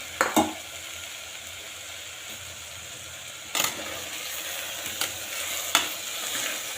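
Rice is stirred and sautéed in a hot pan for kanji, with a continuous sizzle broken by several sharp scraping strokes of the spoon. No one speaks.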